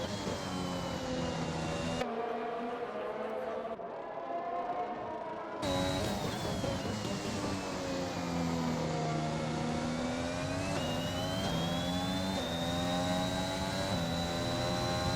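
Racing-game cars at full throttle on the Le Castellet circuit in France, engine whine rising and falling as gears shift, a steady loud multi-car drone with a brief quieter dip early on.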